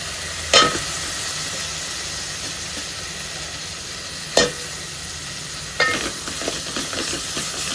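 Onions sizzle and fry in a hot pan on a gas stove, a steady hiss broken by a few sharp clinks of a spoon stirring, with no talking.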